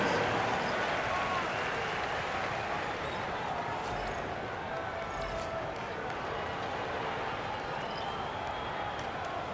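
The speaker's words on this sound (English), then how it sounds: "Let's give them a round of applause." In a college basketball video game, a steady arena crowd roar and applause fills the background, with a few squeaking shoes and bounces, under a commentator's voice.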